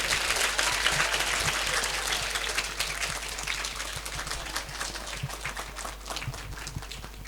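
Audience at a primary school annual function breaks into sustained, dense applause, steady and fairly loud throughout, slowly tapering with no voices.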